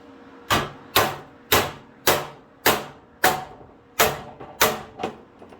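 A hammer strikes sheet metal while a side scoop for a Dodge Superbee is being shaped. Nine sharp, ringing blows land at a steady, unhurried pace, close and loud, with a quiet gap after each one.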